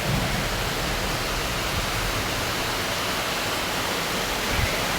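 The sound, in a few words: heavy rain falling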